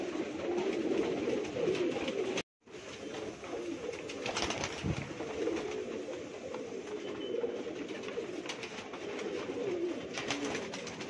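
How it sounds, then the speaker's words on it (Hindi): Pigeons of the Lal Patti Junior Gajab breed coo softly in a home loft in Mumbai, repeated low throaty calls over steady background noise, with a brief dropout early on. "ये कबूतर है जूनियर गजब की कबूतर, इन्हीं की नस्ल लाल पत्ती जूनियर गजब बदमाश यही कबूतर है हमारे पास यही नस्ल।"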